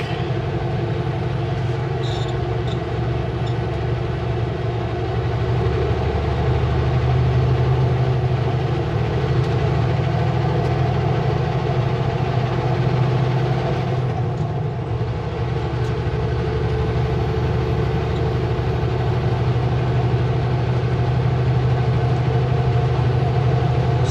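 Steady, loud engine and road drone from inside a car driving along a lakeside road by Skaha Lake near Penticton, a continuous low rumble with constant tire and wind noise and no talking throughout.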